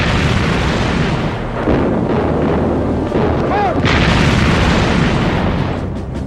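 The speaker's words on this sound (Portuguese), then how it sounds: "seus canhões de 11 polegadas continuavam a golpear o inimigo" Heavy 11-inch naval guns fire in battle at sea, a loud continuous roar of booms and blasts, with a narrator's voice partly over it.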